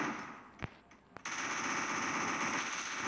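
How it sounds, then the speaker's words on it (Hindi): Automatic gunfire in the Free Fire clash squad battle game, a sustained rapid stream of shots with a couple of sharper isolated cracks at the start, heard at moderate level without talk. "तो हम यहाँ पे गोलियाँ लगाना शुरू कर देते हैं"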